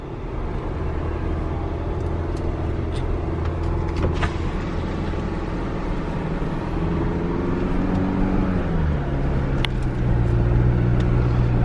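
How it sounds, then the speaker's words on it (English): A 2023 Chevy Colorado's engine works harder while crawling uphill off-road, a loud steady drone inside the cab whose tone rises and shifts as the revs climb. "you can hear the RPMs a little bit higher when you're going uphill"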